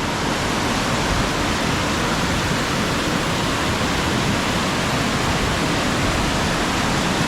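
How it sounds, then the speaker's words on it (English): A flooded creek rushes past an airfield in a loud, unbroken roar of churning water, broad and steady throughout with no pauses or voices. "I don't think I've ever seen this much water come through ever."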